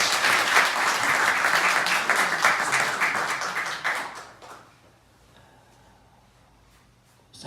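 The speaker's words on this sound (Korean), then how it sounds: "박수 한번 쳐주세요." Congregation applauding during a Sunday church service, a dense burst of clapping for about four seconds that then fades into a quiet room.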